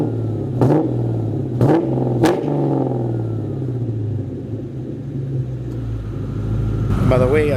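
A New Edge Ford Mustang GT engine idles with a deep rumble, punctuated by three sharp throttle blips early on and another rising rev near the end.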